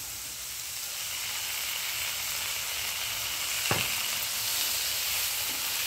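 Tomato and curry leaves sizzle steadily in a hot pan, a constant soft frying hiss with a brief stirring clink partway through and no talking.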